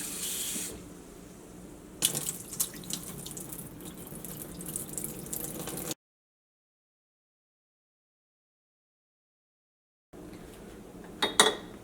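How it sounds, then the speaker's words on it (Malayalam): Moong dal for payasam is washed under running tap water. A close, continuous splashing stream lasts about six seconds, then cuts to silence, and splashing and dripping return near the end. "ഈ പരിപ്പൊന്ന് കഴുകിയിട്ടെടുക്കുക"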